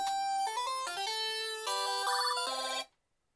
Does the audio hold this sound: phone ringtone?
yes